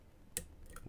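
A lock pick sets a pin inside a KESO 10 RS tri-axis dimple lock, giving one small, sharp click up close, with a fainter tick just after and nothing else around it.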